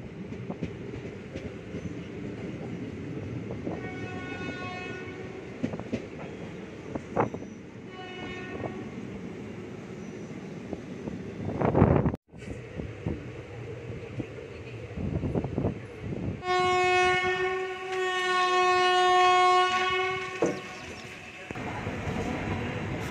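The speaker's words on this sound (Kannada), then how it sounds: "ನಮ್ಮ ಟ್ರೈನು ಹೊಸೂರು ರೈಲ್ವೆ ಸ್ಟೇಷನ್ ಸೇರಿಕೊಂಡಿದೆ" Nagercoil Express pulling into a railway station: a rumbling train runs through, and a long, loud horn blast sounds later while people talk nearby.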